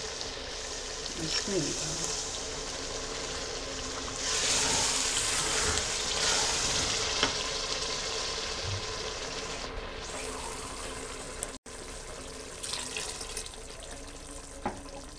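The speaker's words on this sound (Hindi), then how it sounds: "अब इसमें पानी डालते हैं।" Water pours into ghee-fried lentils in a pressure cooker pan while making dal, a steady broad rush and sizzle lasting several seconds, moderately loud and close, with faint kitchen clatter around it.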